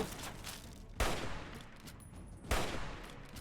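Automated turrets firing in Fallout 3, two sharp gunfire bursts about a second and a half apart over a busy, noisy game background, with no one talking.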